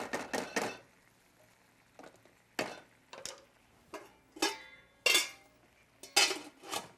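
A utensil scrapes and taps against a pan in a string of short, uneven strokes as food is spread and evened out, close and fairly quiet with pauses between.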